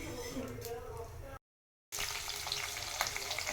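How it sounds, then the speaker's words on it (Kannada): Ground brinjal masala paste frying in a pan of tempering for a brinjal fry, a steady close sizzle and hiss that cuts out briefly, then resumes stronger with light scraping. "ಆಮೇಲೆ ಒಗ್ಗರಣೆಗೆ ಹಾಕ್ಕೊಬೇಕು."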